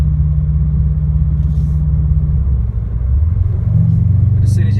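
A 2017 Subaru WRX STI fitted with an Invidia R400 cat-back exhaust idles with a loud, steady low burble and deep rumble, holding even throughout with a slight shift in tone partway through.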